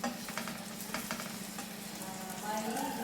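Boneless chicken breast pieces frying in a pan, a continuous close sizzle with occasional stirring scrapes and light clinks, steady and moderately loud without talk.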